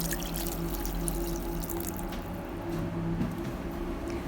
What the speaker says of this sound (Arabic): غنزيد واحد اطر اللاروب ديال الماء